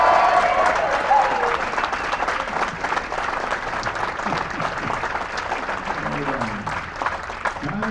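A crowd claps and cheers at an auctioneering college graduation ceremony, dense steady applause filling the whole stretch with scattered whoops, slowly easing in loudness toward the end.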